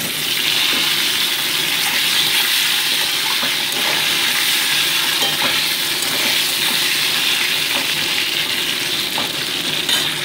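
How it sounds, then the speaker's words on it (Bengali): Cubed potato pieces fry in hot oil seasoned with whole cumin seeds, giving a steady, close, broadband sizzle that holds evenly throughout with no voices. "আলুর টুকরোগুলোকে মোটামুটি 2 মিনিট আমি ভেজে নিচ্ছি।"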